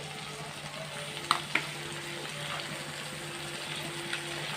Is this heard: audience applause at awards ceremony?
no